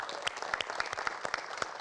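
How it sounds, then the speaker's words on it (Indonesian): A short burst of scattered clapping from a small group, sharp individual claps pattering steadily. "Boleh berikan tepuk tangan."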